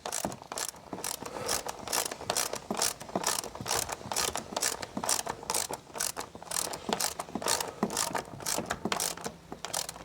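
A uPVC patio door hinge adjustment is tightened with a rapid, steady run of close, sharp ratcheting clicks repeating evenly throughout, with no voices.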